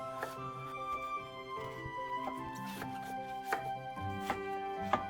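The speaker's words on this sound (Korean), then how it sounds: "재료들은 쌈에 넣기 좋게 얇게만 썰어 주시면 돼요" A knife thinly slices bell pepper and other vegetables on a board, giving soft, evenly spaced cutting taps beneath steady background music.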